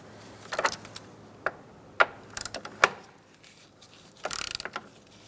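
A ratchet tightens the battery hold-down in a Fiat, sharp clicking bursts in short irregular runs separated by pauses, close and fairly quiet, with no speech.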